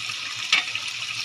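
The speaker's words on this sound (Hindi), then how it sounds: "इसके जो कवर का पानी है वो भी इसके अंदर ऐड करेंगे।" Lid water is poured into a pot of cooking carrots and liver, giving a soft hissing sizzle with a brief louder splash midway, steady and close, with no talking.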